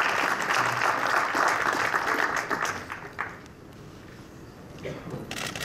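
A press conference audience at the Mayweather–Pacquiao undercard event applauds boxer Leo Santa Cruz, with a dense burst of clapping for about three seconds that then thins out and fades into the room.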